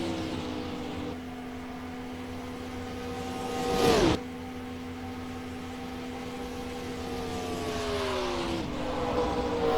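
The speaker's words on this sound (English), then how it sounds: "Just flew past the lap cars there." A 2005 MG Cup Series race car at Texas speeds past slower lapped cars, its engine drone steady and sustained, then rising to a brief loud whoosh as a car sweeps close by before the sound settles back into a continuous hum.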